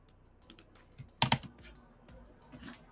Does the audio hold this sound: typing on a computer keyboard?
yes